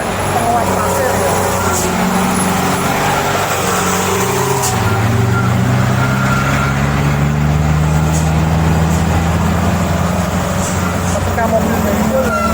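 Sand-hauling trucks pass along a busy road at night, their heavy engines droning and shifting in pitch over a constant wash of traffic noise, with someone talking throughout.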